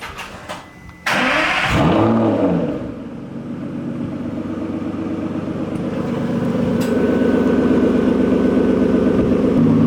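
A 5.9 litre naturally aspirated V12 in an Aston Martin fires up with a sharp loud bark and a quick rev, then drops into a deep, steady idle that slowly builds, heard close with no talking.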